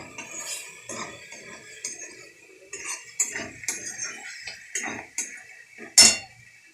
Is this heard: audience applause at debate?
no